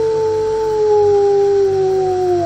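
A human voice imitates dogs howling, drawing out a long, loud, steady wail that slides slowly downward in pitch, delivered alone and close by.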